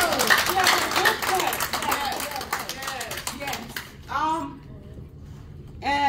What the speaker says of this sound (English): Come on, clap for her.